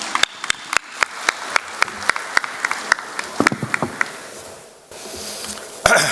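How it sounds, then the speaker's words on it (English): Sparse, scattered clapping from a conference audience welcoming a speaker at a regional chartered accountants' event, individual claps ringing out in a loose rhythm before thinning to a hushed room and a final clap. "Ladies and gentlemen, let's welcome him with warm round of applause."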